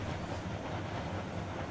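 A steam locomotive in a train video game gives a steady rumbling chuff, a dense, continuous mechanical roar heard alone at moderate level.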